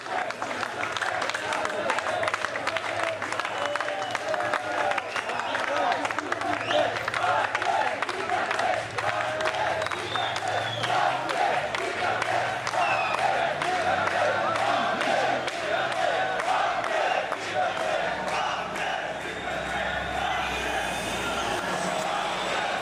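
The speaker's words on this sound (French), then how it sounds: "la foule qui se fend sous les applaudissements pour laisser passer le bus" Crowd in a Paris street applauding steadily as a bus pushes through, dense continuous clapping mixed with shouts and voices, a vehicle engine rumbling low underneath.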